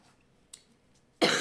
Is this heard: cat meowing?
no